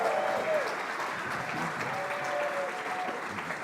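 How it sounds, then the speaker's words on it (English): An audience at a live event with John McAfee bursts into sustained applause, a dense steady wash of many hands clapping with some crowd noise mixed in. "Let's give him a huge round of applause."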